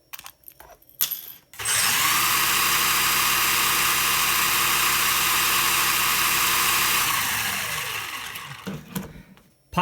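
Feiyue FY03H brushless RC truck with a metal body, run in high-speed mode: a sudden loud, steady high-pitched electric whine that holds for several seconds, then winds down, with faint handling clicks before and after.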